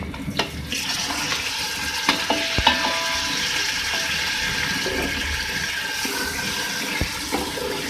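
Steady sizzling of chicken frying in a pan with onions and spices, with occasional scrapes and clinks of a spoon stirring, close and continuous.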